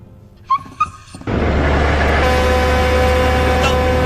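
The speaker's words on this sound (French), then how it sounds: "Oh, regardez, un petit chien." A small dog in an animated football episode gives two quick, high yips, then a loud, steady rumbling noise takes over and drowns everything else.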